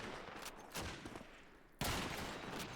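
Gunfire in the video game Call of Duty 2 during a competitive match, dense crackling shots in quick succession with a sudden louder burst near the end, no talking.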